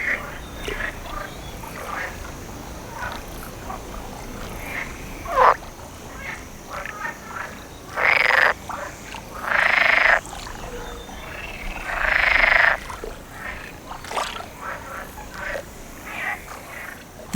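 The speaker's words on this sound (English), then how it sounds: "These tireless singers are European green frogs, also known as edible frogs." A chorus of European green frogs, or edible frogs, croaks at night, with loud rasping bursts about a second long rising over a steady background of many distant callers.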